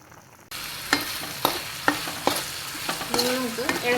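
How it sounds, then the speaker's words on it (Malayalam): Prawns fry in hot oil for a spicy prawn pickle, a steady sizzle broken by several sharp scraping stirs at regular intervals, close and fairly loud, with no talking. "ഇത് നമുക്ക് കുറച്ച് നേരം ഓയിലിൽ പിങ്ക് കളറാകുന്നത് വരെ വറുത്തെടുക്കാം."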